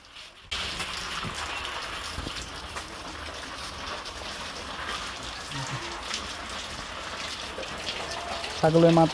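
Water sprayed over goats during bathing at a goat farm, a steady broad hissing splash that starts abruptly and continues at even strength, with a brief louder burst near the end.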